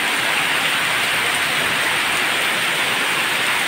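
Heavy rain pours down in a dense, unbroken hiss, loud and close, with no voices heard.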